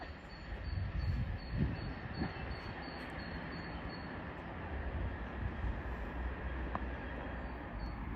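An East Midlands Railway train rolls through a station, a continuous heavy rumble of wheels on track with a high wheel squeal running over it, steady and fairly close, with no talking.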